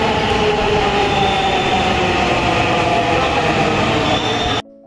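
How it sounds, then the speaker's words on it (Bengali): A metro train pulls into a station with a loud, steady roar of rumbling wheels and rolling carriages that holds for several seconds before cutting off abruptly. "তারপর চলে আসলো আমাদের ট্রেন"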